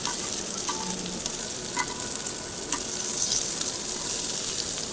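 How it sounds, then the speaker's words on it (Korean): Pork belly frying in a pan gives a dense, continuous sizzle with scattered fat pops and crackles, close and steady throughout, with no voices. "이 지글지글하면서 안에 익고 있는 거."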